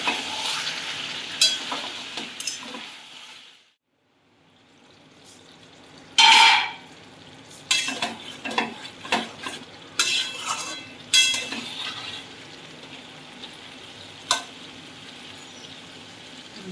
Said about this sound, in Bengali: এবার আমি ঢাকনাটা তুলবো কি নাড়াচাড়া করবে